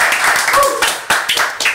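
A small gathering at an Indonesian church youth talk claps briefly, a short patter of hands in a few uneven bursts, close and fairly soft, with some voices mixed in.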